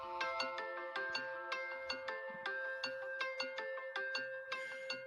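A ringtone called Scavenger plays on its own: a bright, repeating melodic pattern of chiming synth notes with steady rhythmic plucks, fairly loud and clear throughout.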